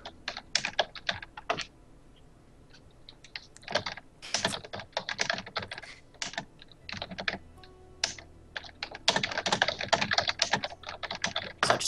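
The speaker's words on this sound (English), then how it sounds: "Sorry, my keyboard's really loud." Typing on a loud computer keyboard, bursts of rapid clacking keystrokes separated by short pauses, close and crisp throughout.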